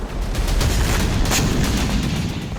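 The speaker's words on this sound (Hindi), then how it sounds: "दाहिया में इजराइल ने एक के बाद एक 4 राउंड में विस्फोट किए।" Israeli strikes hit Dahiyeh in Beirut with loud rumbling booms, heavy blast noise rolling and crackling continuously with no voices.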